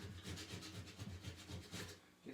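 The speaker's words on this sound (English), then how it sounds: "it's rougher sandpaper than what I would have on the Dremel" Rough sandpaper rubbing by hand on a rusty metal part of a mud mower, a faint close rhythmic scraping with quick regular back-and-forth strokes, about twelve passes.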